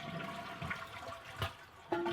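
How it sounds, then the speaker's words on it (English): Household bathroom toilet flushing nearby, a short rushing swirl of water draining from the bowl, fairly quiet, followed by a steadier tone of the tank beginning to refill. "Flush the toilet."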